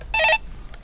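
A telephone on a Korean stock-market call-in broadcast gives a single short electronic ring for an incoming call, bright and close, then quiet with no speech.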